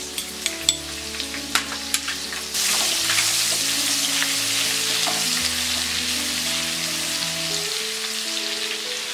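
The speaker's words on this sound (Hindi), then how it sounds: "मस्टर्ड सीड्स क्रैकल होने के बाद हम डालेंगे ये हींग, क्रश्ड गार्लिक, ग्रीन चिली," Asafoetida, crushed garlic and green chili hit hot oil in a tempering for leftover rice, bursting into loud, steady sizzling after a few sharp crackles and pops.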